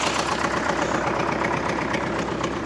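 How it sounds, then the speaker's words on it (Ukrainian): An MTZ 80 tractor engine drones while ploughing with a plough in snowy weather, a loud steady diesel chug with rhythmic low knocking, close and continuous. "кожного дня МТЗончик працює"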